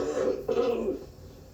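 A man's deep, rough smoker's cough merges into throaty throat clearing: two close, loud bursts that trail off into quiet.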